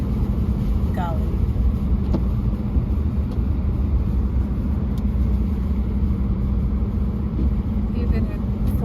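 A four-wheel-drive car drives along a slippery, snowy road during a spring snowstorm, with a steady close interior rumble of engine and tyres throughout and a person talking over it.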